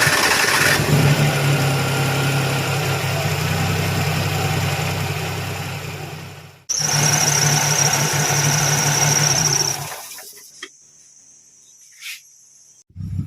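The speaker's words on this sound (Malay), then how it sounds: "Dan berikut adalah bunyi dia selepas saya hidupkan engine." A car engine idles after replacement of the alternator, water pump and compressor belts, a loud steady hum with a faint high squeal or whine, cutting off near the end into quiet with a few faint knocks.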